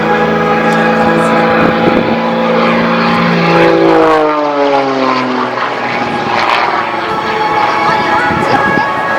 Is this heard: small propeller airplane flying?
yes